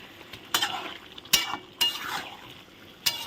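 Ground spice paste for chicken curry is sautéed with a low sizzle, while a spatula scrapes the pan in several loud strokes spaced across the moment.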